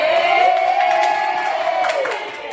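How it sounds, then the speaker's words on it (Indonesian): A room of women at a teachers' training session at a school cheers and whoops loudly, a steady crowd roar with rising voices and some clapping that fades slightly toward the end. "Kasih tepuk tangan."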